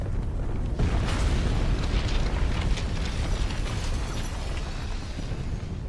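Deep, rumbling crystal destruction sequence in Final Fantasy 16, a dense, continuous roar of booming low end with crackling, shattering debris layered on top, loud and sustained throughout with no talking.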